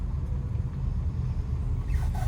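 A Maruti Suzuki Baleno drives in second gear at low speed, heard from inside as a steady low engine and road rumble, fairly quiet, with a faint whine near the end.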